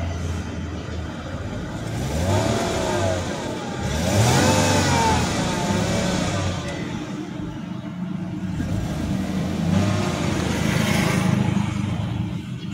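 A 2003 Mercedes-Benz E240 Elegance running on CNG idles steadily nearby, its engine note rising and falling through a few gentle revs with a continuous mid-pitched drone.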